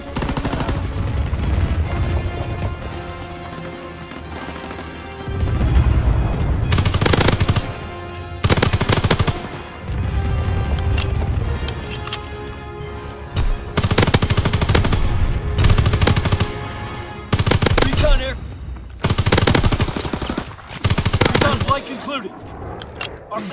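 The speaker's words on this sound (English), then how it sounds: "Anti-aircraft salvo commenced." Anti-aircraft salvo gunfire in Call of Duty WWII: loud bursts of rapid automatic fire and booming shots come in repeated volleys over continuous battle noise.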